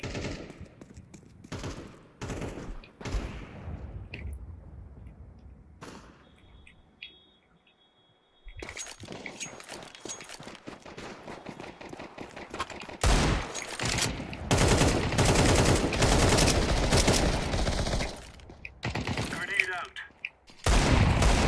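Gunfire in Counter-Strike 2: bursts of automatic rifle fire and scattered single shots crackle loudly through most of the stretch, with a quiet lull partway through and game voice lines mixed among the shooting.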